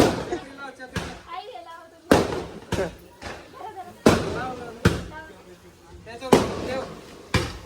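Diwali firecracker bombs are lit and burst in a series of sharp, loud explosions with echoing decay, several blasts spaced a second or so apart, while people shout and talk excitedly between them.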